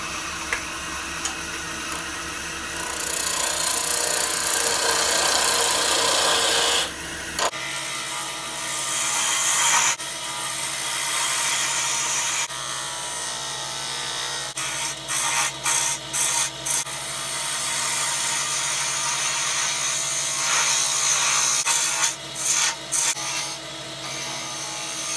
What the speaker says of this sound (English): We're going to use a nice sharp spindle gouge for the initial shaping of the outside.